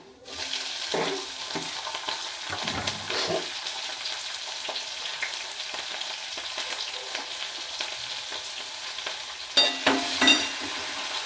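Green chillies frying in a pan, a steady sizzle close up that runs throughout, punctuated by stirring bursts near the start and a louder crackle toward the end, no talking.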